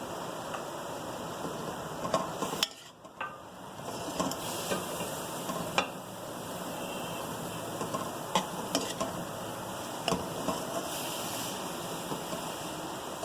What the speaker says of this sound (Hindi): अब मैं इसके अंदर तमाम मसाले ऐड कर रही हूँ और इसे अच्छी तरीके से मिक्स करूंगी